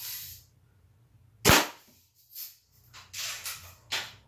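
A Daisy Red Ryder adult model BB gun fired once, a sharp close crack followed by a few softer clicks and thumps of handling in an otherwise quiet outdoor setting.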